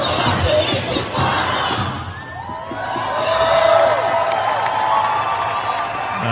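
A large protest crowd in Sydney roars and cheers in a dense, continuous wash of voices that swells louder toward the middle and stays busy throughout.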